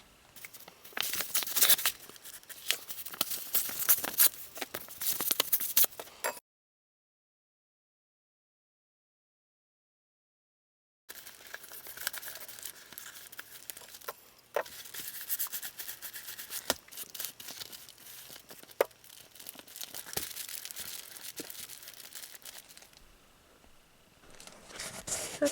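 Tape is torn from a roll and pressed down during a book repair, with crisp, crinkly tearing and rubbing sounds that come in close bursts, broken by a silent gap partway through.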